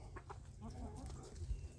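Chickens cluck softly in a backyard garden in the evening: a few quiet, low clucks at a distance, faint against background hum.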